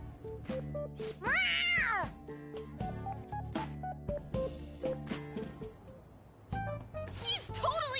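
Cat meowing in the Persona 5 Royal video game: drawn-out meows and a caterwaul-like yowl over game music, with voices talking in between.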